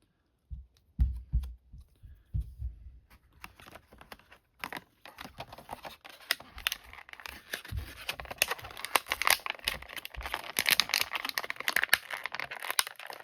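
A Funko Gandalf figure being unboxed, with dense crinkling and tearing of plastic and cardboard packaging, some sparse handling knocks at first, then steady close rustling and crackling to the end.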